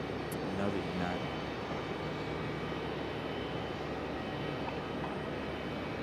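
United regional jet, an E-175, at Raleigh-Durham International airport, a steady broad roar of engine and airflow from a moderate distance, with a voice speaking over it.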